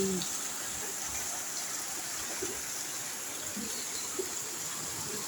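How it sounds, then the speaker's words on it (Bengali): Heavy rain falls steadily, a dense, even hiss filling the whole clip with no break or change in intensity. "তুমি দেখো জল জমে গেছে, বিশাল বৃষ্টি হচ্ছে।"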